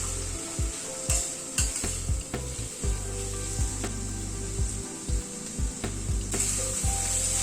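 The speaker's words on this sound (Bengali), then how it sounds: "রাজমাটা মশলার সাথে একটু কষিয়ে নিচ্ছি, তাহলে খেতে বেশি ভালো লাগবে।" Kidney beans (rajma) being stirred and fried with spices in a pan for a one-pot rice meal: steady close sizzling with repeated scraping and stirring strokes throughout, no talking.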